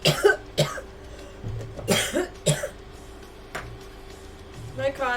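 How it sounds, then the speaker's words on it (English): A person at a painting session coughs in several harsh, close bursts mixed with throat clearing, loud against a quiet room, with a faint steady hum underneath and a little voiced sound between coughs. "My cough seems to be sort of there today."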